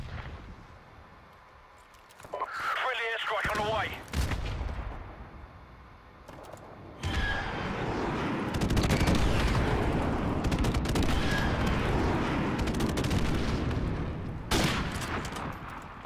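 Call of Duty gunfire: rapid automatic bursts and sustained volleys of shots, loud and close, with brief lulls between strings of fire and heavy booming reports.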